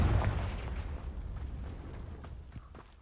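A Confringo blasting spell explodes in Hogwarts Legacy on PC, a heavy booming burst that rolls out into a long decaying rumble with a few small crackles, alone without speech.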